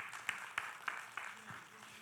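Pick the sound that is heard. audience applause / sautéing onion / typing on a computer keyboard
audience applause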